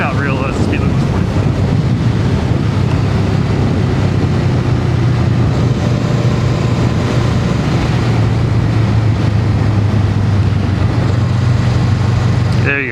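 A Honda Rebel 500 motorcycle cruises along at road speed, its engine a steady low drone almost buried under loud, constant wind buffeting the microphone, while the rider talks throughout.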